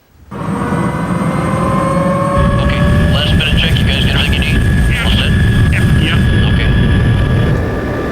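A loud, close engine roar with a whining tone and thumping rotor, steady throughout, with speech faintly mixed under the noise.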